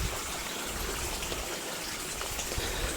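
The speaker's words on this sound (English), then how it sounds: "It's lovely now to walk down the driveway and to hear the sound of the water." Steady rushing water, like rainwater running and gushing through a channel, heard close and even throughout with no voices.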